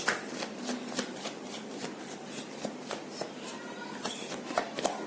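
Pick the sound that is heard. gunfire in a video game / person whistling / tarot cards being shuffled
tarot cards being shuffled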